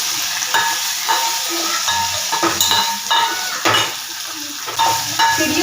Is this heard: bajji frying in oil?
yes